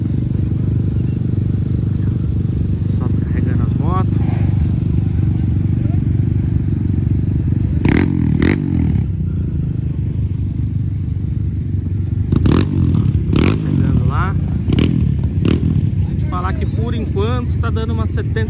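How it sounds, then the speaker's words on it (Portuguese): Motorcycles, including two-stroke bikes, idle and rev at an outdoor trail ride gathering, a constant low engine rumble with several sharp revving bursts nearby, mixed with wind noise and occasional talking. "Vou filmar pra vocês as motos."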